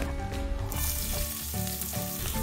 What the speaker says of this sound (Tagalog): So ngayon, igigisa ko lang yung ating mga sangkap.